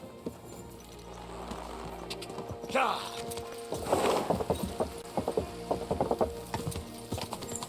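A horse in the video game Kingdom Come: Deliverance II shuffles and clip-clops nearby, with a snort and some creaking tack, while someone talks over the game sounds.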